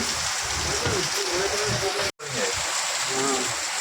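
Heavy rain pours steadily near a roadside tea stall, a dense, constant hiss of drops spattering on surfaces, close and loud, with a brief dropout midway and faint voices underneath.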